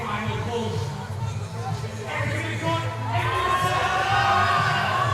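Crowd at a university powerlifting championship cheers on a woman's deadlift, a sustained loud roar that swells toward the end, with voices shouting within it.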